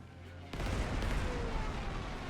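Bombing strike in the strategy game Panzer Corps 2: after a quiet half-second, a dense, rumbling barrage of explosions rolls in and keeps thundering steadily to the end, loud and low.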